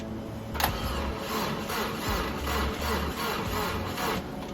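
A Subaru Impreza GC8 project car's engine cranks on its first start attempt, a steady rhythmic churn of the starter turning over without catching, loud and close with no talking.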